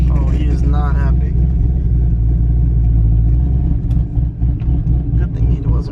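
A loud muscle car engine roars on a city street during a hard pull, a heavy low rumble running steady throughout with voices talking over it.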